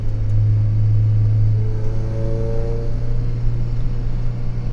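A car accelerating on a Formula 1 circuit near the first corner during a reconnaissance lap, a steady droning engine rumble with a rising harmonic whine, loud and continuous with no talk.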